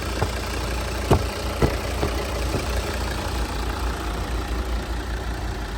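A Volvo V60 D3 diesel engine (120 kW) with an Aisin gearbox idles steadily close by, a constant low rumble with a few faint ticks and knocks near the start.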